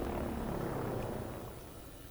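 A helicopter in the video game Prototype 2, a steady loud rotor and engine roar that gradually fades over about two seconds.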